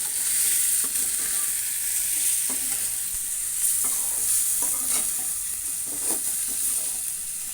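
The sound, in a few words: chicken curry cooking and being stirred in a pan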